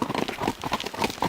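A horse's hooves clatter and slip on an icy trail during a winter ride, a rapid, irregular run of close, loud clip-clop impacts with no talking.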